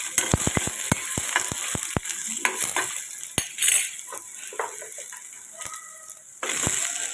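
Onion, dried red chilli and apple sautéing in a pan for apple chutney, with a steady close sizzle and frequent sharp clicks and scrapes of a spoon stirring against the pan.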